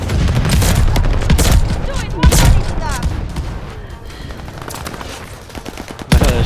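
A gold combat shotgun firing in a video game, several heavy blasts amid a busy, loud stretch of rapid gunfire and booms, spread unevenly over six seconds with occasional voices.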